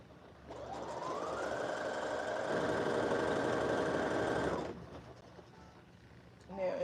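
A sewing machine stitches over a costume armhole in one continuous, close whirring run of about four seconds with a rising motor whine, then stops, leaving a quieter room.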